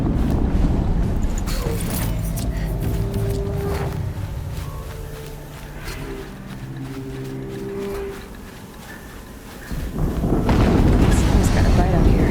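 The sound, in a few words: explosion in Horizon Zero Dawn video game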